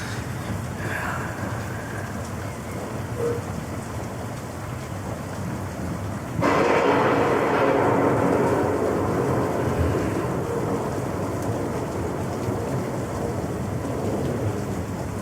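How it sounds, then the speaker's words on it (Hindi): Steady rain with rumbling thunder, swelling into a much louder downpour partway through and continuing heavy to the end. "ये तूफान कब खत्म होगा यार?"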